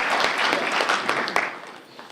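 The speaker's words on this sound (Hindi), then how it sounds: "डॉक्टर श्याम सुंदर दुबे जी के लिए मैं चाहूंगा जोरदार ताली से डॉक्टर श्याम सुंदर दुबे जी का स्वागत करें।" An audience at a stage event, a book-launch ceremony, claps in a dense burst of applause that thins out slightly toward the end, with no talk over it.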